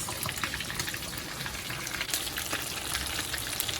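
Fish fries in a pan for a Jamaican brown stew fish dinner, the oil crackling in a continuous close sizzle with scattered sharper pops.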